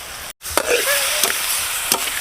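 Pork curry meat sizzles in a pan with a steady, bright hiss, broken once by a brief gap and a few soft stirring knocks, close and fairly loud, with no voices.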